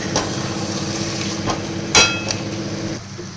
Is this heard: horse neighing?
no